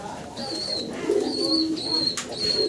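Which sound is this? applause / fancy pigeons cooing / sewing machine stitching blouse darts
fancy pigeons cooing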